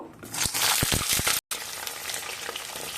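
Pointed gourd (potol) pieces frying in hot oil in a wok, a steady loud sizzle broken by a few low thuds as pieces drop in, then a short cutoff before the crackling resumes alone.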